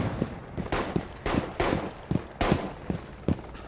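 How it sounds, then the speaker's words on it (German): Gunfire in Rainbow Six Siege rings out in a steady string of about a dozen sharp, loud shots at a rapid, even pace, each with a short echoing tail. "Sechsmal daneben schießen"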